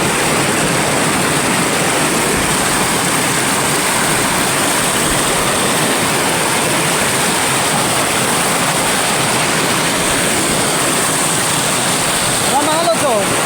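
The Angalakan river's current rushes loud and constant at close range past a bamboo fishing setup, a broad unbroken wash of flowing water.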